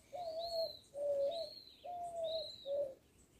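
A dove cooing in a patio garden, four soft, rounded coos in a steady rhythm, close and clear against a quiet background with no talk.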